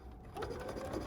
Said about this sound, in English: Now I'm going to go ahead and sew all the way around on all 4 sides